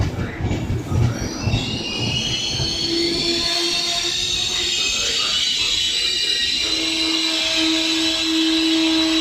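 Train standing at an Italian railway station, with a steady mechanical rumble, a sustained tonal whine and squealing wheels, loud and close throughout, with faint voices in the background.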